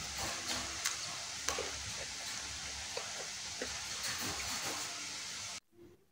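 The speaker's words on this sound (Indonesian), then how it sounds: "kita goreng kembali adonan telur gabusnya ya" Telur gabus keju, a cheese egg-puff dough, frying in hot oil, a steady loud hiss and sizzle with scattered pops and crackles that runs alone and cuts off sharply near the end.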